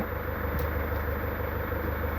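A Chevrolet Captiva turbo engine idles at about 750 RPM, a steady low rumble heard close and unbroken, with a brief faint tick partway through and no talking.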